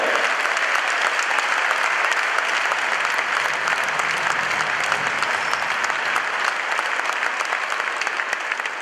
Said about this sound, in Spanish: Un aplauso enorme para toda la militancia en Argentina que está aquí en Rosario